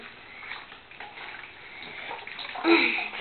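Water splashes and drips as a wet Webkinz plush toy is squeezed out in a bath, a soft trickling that swells into a brief louder gush near the end.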